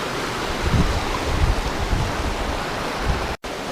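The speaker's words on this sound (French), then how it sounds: "Voilà donc la suite du cours d'eau" Flowing stream just upstream of a waterfall in Taiwan, a loud, steady broadband rush of water with gentle surges, continuous and close.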